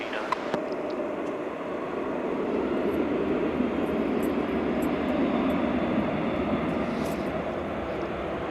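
American Airlines Airbus A319 airliner arriving at Dallas/Fort Worth Airport, a steady loud engine roar that holds and slowly swells as it passes near, with a voice talking faintly beneath it.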